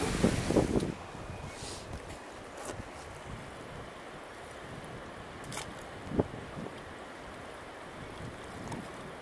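A small stream pours into the sea on the coast of northern Karelia, a continuous outdoor wash of water and surf with wind buffeting the microphone and a few brief bumps and knocks.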